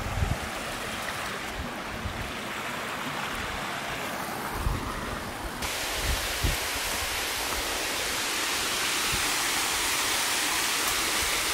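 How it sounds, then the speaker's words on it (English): Spillway falls pouring off Green Fall Pond in a gorge, a loud, steady roar of rushing water that fills the whole stretch without pause. "spillway falls coming off of Green Fall Pond."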